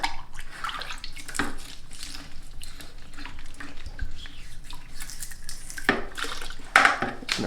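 A Titan 440 airless sprayer part being rinsed, water splashing and trickling steadily up close, with brief louder bursts and occasional clinks of metal against a basin.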